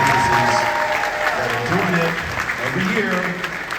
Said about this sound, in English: So give yourselves a round of applause for supporting these black-owned businesses